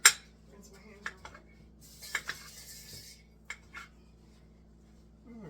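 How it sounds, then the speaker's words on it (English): A large kitchen skillet being pulled out among pots and pans, with a few sharp metallic clinks and clatters spaced apart in an otherwise quiet room, and brief speech in between. "Do we want to get out the big skillet to saute this?"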